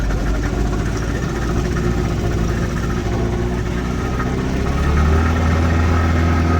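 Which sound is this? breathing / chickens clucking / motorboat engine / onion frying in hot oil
motorboat engine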